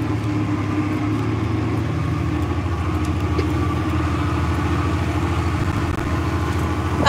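A combine harvester engine runs steadily throughout at harvest, a loud, even low drone with no break and no talk over it.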